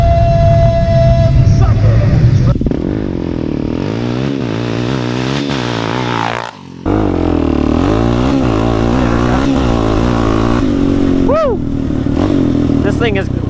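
A Suzuki LTZ 400 quad engine revs hard for a GNCC-style start, rising and pulling through gear changes with a brief cut in the middle, loud and close, with talk over parts of it.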